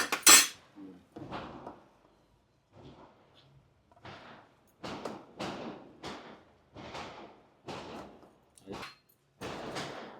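Hot rice and eggplant curry being served onto a plate, a series of close scraping and clinking spoon-on-plate strokes in an irregular rhythm, with a brief sharper clatter at the start.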